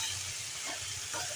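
Vegetables frying in a pan, a soft steady sizzle with occasional stirring scrapes, fairly quiet and close.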